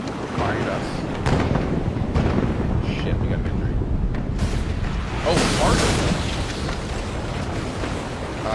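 Ship cannons fire grapeshot in a naval battle video game, a rumbling run of deep booms and bursts that keeps going under excited talk.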